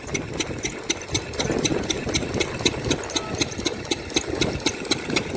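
A diesel engine powering an irrigation water pump while watering a moong bean field runs steadily nearby, with a rapid rhythmic knocking thump repeating throughout.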